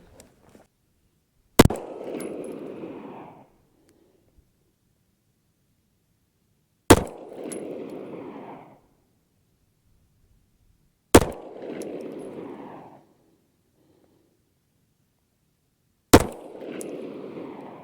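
Four sharp suppressed shots from a Staccato P 2011 pistol fired from a rested position at a range, evenly spaced a few seconds apart, each a loud crack followed by a short decaying ring.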